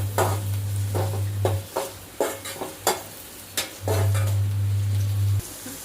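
Onions stirred in hot frying oil in a pan, a steady sizzle broken by a string of rhythmic spoon scrapes and clinks against the pan, with a low hum rising and falling beneath, no voices.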